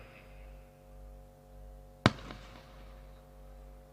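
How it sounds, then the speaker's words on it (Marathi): A single sharp firecracker bang bursts out at a cricket match in a premier league final near Alibaug, with a brief crackling tail, heard alone over a steady low crowd and PA hum. "फटाक्यांची आतषबाजी जरूर आहे,"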